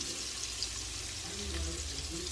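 Ingredients for grilled corn chowder sauté in a pan over lowered heat, giving a soft, steady sizzle heard close up but quiet, with no talking.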